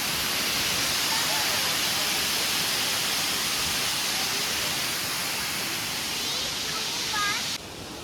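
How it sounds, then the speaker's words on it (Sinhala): Baker's Falls at World's End, Sri Lanka, gives a steady, broad roar of falling water close by that fills the whole stretch, with a few faint chirps near the end. "Ini ඇල්ල"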